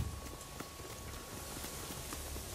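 Samurai horse hooves clip-clopping at a steady walking pace in the video game Ghost of Tsushima, soft and fairly distant beneath a low ambient outdoor rumble.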